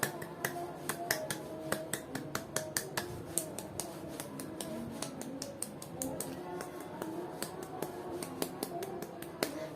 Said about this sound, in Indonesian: Bagus, tepuk pramuka 3 kali.